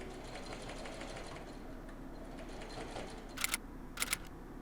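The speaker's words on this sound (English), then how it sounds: "top stitch close to the fold on the right side of the shirt" Sewing machine running steadily while topstitching close to the fold on the right side of a shirt binding, a continuous mechanical whir for most of the clip, followed by two short bursts of higher clatter near the end.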